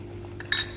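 A metal spoon stirs vegetable chopsuey in a pan, giving a single short, bright scrape and clink close up against faint background noise.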